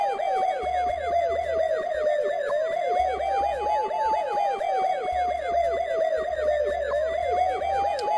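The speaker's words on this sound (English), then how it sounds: "So immediately hit the siren. It automatically goes." A police car siren in the Police Quest 1 video game wails continuously and loudly, its rapid warbling tone rising and falling over a steady low hum, with no voices.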